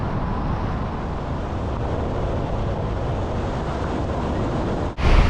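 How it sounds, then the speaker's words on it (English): Steady wind rushes through trees in the Tasmanian countryside, a loud, continuous broadband roar close to the microphone that stays unbroken until a sudden gust-like shift right at the end. "sound of the wind in the trees"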